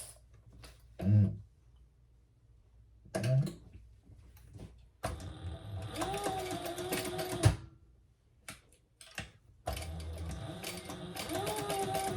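Sewing machine stitching a seam on a messenger bag, heard as short bursts of whirring mechanical stitching between pauses, close up, with thumps of fabric handling between runs.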